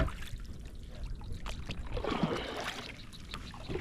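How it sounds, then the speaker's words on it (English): A fishing kayak paddled slowly backwards, soft water swishes and trickles from the blade dipping and pulling, close and continuous with a gentle lapping wash. "I'm gonna slowly paddle backwards."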